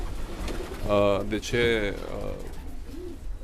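Soft cooing of breeding pigeons in a breeding loft murmurs beneath someone speaking nearby, with the birds' low calls continuing faintly after his words.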